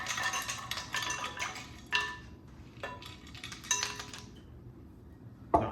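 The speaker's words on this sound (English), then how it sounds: "Add some ice cubes." Ice cubes dropped into cold water during homemade butter churning with a churning kit, making a scatter of sharp clinks and knocks, some in quick clusters and a few louder single taps, close and with no talk.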